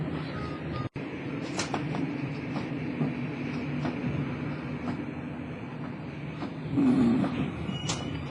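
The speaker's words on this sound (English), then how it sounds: "I'm here in this Swiss Eurocity train" Steady rumble inside a moving Swiss Eurocity train carriage, with soft rhythmic clicks from the rails and a brief louder swell near the end.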